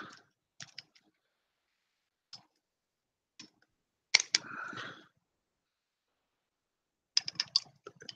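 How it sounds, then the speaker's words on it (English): Pliers gripping and twisting wire while making a fishing lure, giving sparse, sharp metallic clicks and one short scraping twist in an otherwise quiet room, with no voices. "we're going to take this other pliers and grip it"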